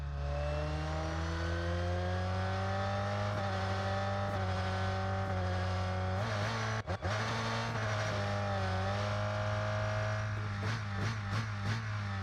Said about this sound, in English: Just listen into the RPM on the upshift